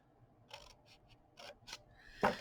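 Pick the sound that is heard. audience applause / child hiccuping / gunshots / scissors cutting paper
scissors cutting paper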